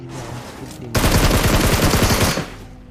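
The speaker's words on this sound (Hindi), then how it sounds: "अब उसके बाद अभी भी स्क्वाड हाउस से भाई धड़ाधड़ फायर हुए जा रहा था" Rapid automatic gunfire erupts in a battle royale video game firefight, a dense loud burst of shots lasting about a second and a half after a quieter lead-in.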